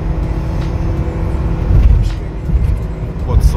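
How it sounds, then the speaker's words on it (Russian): A 2018 Nissan NV200 S van with 2.0 automatic CVT and refrigerator unit driving uphill: steady, loud engine drone and road rumble with slight surges, someone talking over the engine noise. "Я еду в гору"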